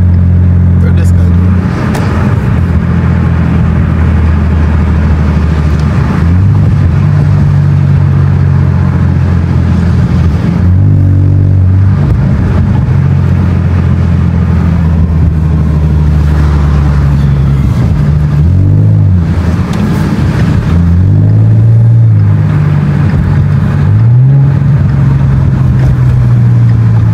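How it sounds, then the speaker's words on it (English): A loud Ford Mustang EcoBoost engine revs hard while driving, its deep drone climbing and dropping through repeated bursts of throttle, close and dominant across the whole stretch while a voice talks over it. "if this is a little eco boost, which I think it is, I do not want to know what the V8 sounds like"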